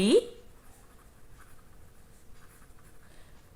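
A pen scratches softly and steadily across paper during a Class 9 maths lesson, faint and close, after a brief voice at the very start.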